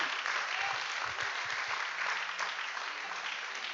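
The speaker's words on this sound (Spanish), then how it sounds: "Denle un aplauso al Rey." Warm applause from a church congregation during a Spanish-language sermon, steady dense clapping filling the room at moderate distance, with faint voices beneath it.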